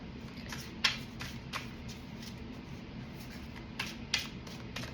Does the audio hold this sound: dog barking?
no